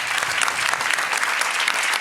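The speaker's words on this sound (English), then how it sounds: "Can we get a round of applause for Dorothy and Fabrice?" Audience at a food forum's kitchen stage bursts into sustained, dense clapping for two presenters, loud and close, continuous for the whole moment.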